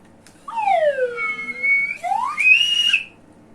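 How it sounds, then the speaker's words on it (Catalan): A whistle blows in sliding, warbling tones, rising and falling over about two and a half seconds, close and fairly loud with no talking. "Un xiulet."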